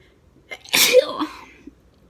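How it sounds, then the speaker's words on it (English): A single sharp sneeze bursts out close up after a short intake of breath, then quiet. "I've got to sneeze."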